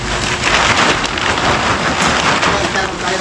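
Heavy rain pours steadily and loudly, a dense hiss of drops on the surfaces around a house under construction, with no break through the clip.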